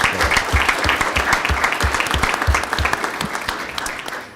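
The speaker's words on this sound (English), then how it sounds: "Let's give another round of applause to the amazing MC Cash" An audience at a school district governing board meeting gives a round of applause, steady hand clapping that fills the room and slowly thins out toward the end.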